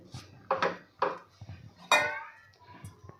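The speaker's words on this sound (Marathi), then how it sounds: "अशा पद्धतीने आपल्याला सतत हलवत राहायचं आहे मिक्स करत राहायचं आहे" Sesame barfi mixture with sugar syrup being stirred in a pan, a series of distinct knocks and scrapes of a spoon against the metal pan, close and fairly loud, with quiet gaps between strokes.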